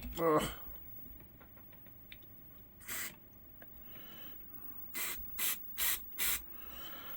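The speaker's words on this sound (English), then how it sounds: "I've got some electrical contact cleaner, and what I did was I basically just flooded it" Electrical contact cleaner sprays into the mode switch of a Sony SLV-301 VHS video recorder in several short hissing bursts, one after another near the end, after scattered small clicks and handling.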